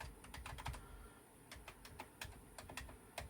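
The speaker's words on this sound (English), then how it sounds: "I don't think I tested the keyboard in this one yet, so let's just give that a quick test." Keys clack on a Commodore VIC-20 home computer keyboard under test, some keys sticky, in a quick series of separate close taps with short pauses between bursts.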